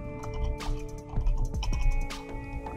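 Fingers type on a computer keyboard, giving a loose run of soft, irregular key clicks over a low background hum.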